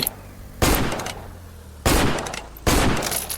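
Three loud, booming M24 rifle shots in the game BLOCK SPIN, spaced unevenly about a second apart, each a sharp blast with a short decaying tail over low background noise.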